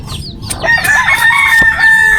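A goose calls close by, a drawn-out crowing cry with short clucks around it, over a low steady rumble of background noise.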